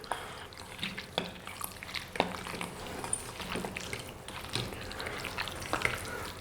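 Marinated chicken for spicy red chilli chicken is mixed by hand with salt and chilli, making soft, wet squelching and stirring sounds with occasional small knocks. The sounds are close and continuous, with no talking.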